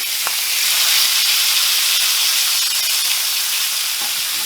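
Bone-in pork chops sear in a cast iron pan, giving a steady, loud broadband sizzle and hiss that runs unbroken throughout with a few faint ticks and no talking.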